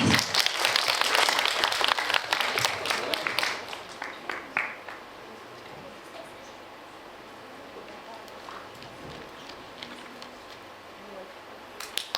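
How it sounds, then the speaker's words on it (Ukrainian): Applause from an audience at a Ukrainian music school concert: a burst of brisk, dense clapping for about four seconds, then it trails off into scattered claps and quiet room ambience. "Вітаємо кожного ваші оплески!"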